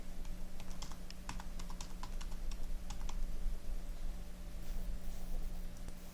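Keys clatter on a computer keyboard in a quick burst of typing with a few isolated presses, one of them the Insert key, over a steady electrical hum; no one speaks.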